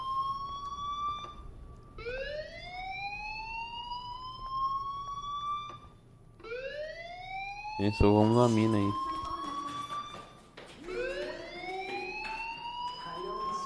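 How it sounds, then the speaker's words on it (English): A loud electronic fire alarm in the video game Life Is Strange repeatedly sweeps upward in pitch, cycle after cycle, while people talk over it at one point. "do you hear that fire alarm? That means you should be outside."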